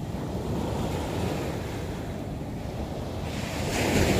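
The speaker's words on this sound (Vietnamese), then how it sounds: "Tại giờ thì sóng đánh lên này nè." Sea waves wash up onto the beach at Nha Trang in Vietnam, a steady roaring surf with wind buffeting the microphone, swelling louder toward the end.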